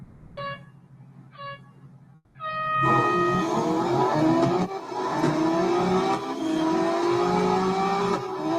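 Race car engine in the Real Racing 3 mobile game during a one-lap multiplayer race: two short beeps of a countdown, then a loud, sustained engine roar that climbs steadily in pitch through the gears.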